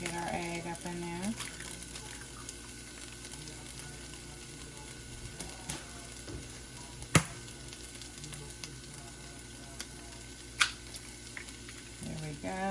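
An egg for shrimp fried rice sizzles in a hot pan, a steady soft crackle at low level, broken by a few sharp clanks and brief voices nearby.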